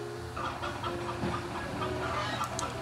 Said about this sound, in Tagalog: Nakaka-insulto manok ng kapitbahay namin.